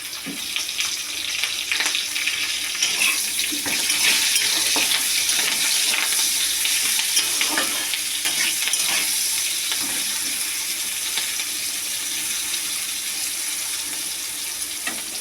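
Browned potato pieces and chopped capsicum sizzle steadily in a pan while a spatula stirs and scrapes through them again and again. The close, continuous frying noise runs throughout, and no voices are heard.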